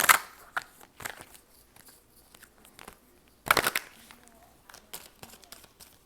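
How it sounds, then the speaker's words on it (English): Tarot cards being shuffled by hand, a series of soft, sharp riffling and slapping bursts spaced irregularly, close and quiet with near silence between strokes. "It's the way I'm shuffling."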